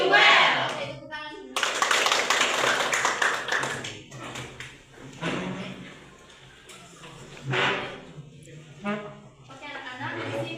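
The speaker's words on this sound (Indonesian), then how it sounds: "Oke, tepuk tangan." Children in a classroom clap their hands in short rhythmic bursts, loud and close, between spells of a teacher and pupils talking.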